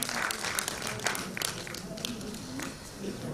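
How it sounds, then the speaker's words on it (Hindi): An audience at a book launch claps loudly to welcome a guest, dense applause with sharp individual claps and a voice speaking over it. "तो जोरदार तालियों से आपका भी स्वागत।"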